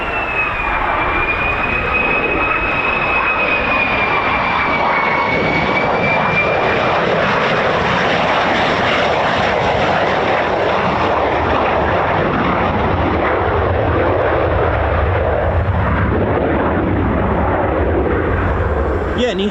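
Military jet aircraft of the 48th Fighter Wing, F-15s and F-35s, arriving at RAF Lakenheath, a loud, continuous engine roar with a whining tone early on, sustained throughout with voices talking beneath it.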